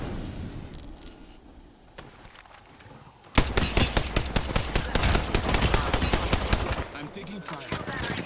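Rapid, loud automatic gunfire from a Halo video game erupts suddenly after a quieter stretch and continues in a dense, crackling stream of shots to the end.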